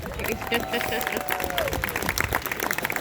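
Applause from a crowd at a county fire and rescue department family day, busy clapping mixed with crowd noise and chatter, with a whistle-like tone sliding through partway.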